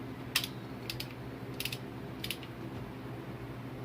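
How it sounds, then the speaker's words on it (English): A 14 mm torque wrench tightens bolts on a cheap used ATV to about 29 foot-pounds, giving four faint, sharp clicks spaced evenly against a quiet steady hum. "Torque wrench"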